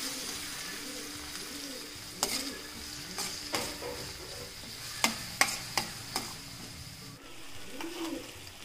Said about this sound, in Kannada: ಈರುಳ್ಳಿ ಹಾಕ್ತಾ ಇದ್ದೀನಿ. ತುಂಬ ಚೆನ್ನಾಗಿ ಫ್ರೈ ಮಾಡಬೇಕು.